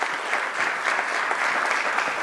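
Brief, steady applause from an audience thanking the speakers of a round table discussion at a conference on ethical and responsible performance, a dense even patter of many hands clapping.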